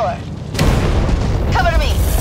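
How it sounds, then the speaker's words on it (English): A door is blown open by a breaching charge in the Rainbow Six Extraction cinematic trailer, a loud, close boom that swells into a sustained roar over a tense score, with voices briefly calling out around it. "Nomad, blow the door!"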